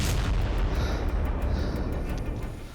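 Israeli Air Force bombardment strikes Hezbollah positions in the Ramich area of southern Lebanon, heard as a continuous heavy, rumbling roar of distant explosions that holds steady and fades slightly toward the end, with no voices.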